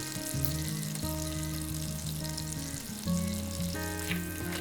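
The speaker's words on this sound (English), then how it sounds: "Just several seconds of garlic in the oil" Garlic sizzling briefly in hot oil over very low heat for a simple homemade tomato soup, a steady soft frying hiss layered under sustained tonal background music, with no voices.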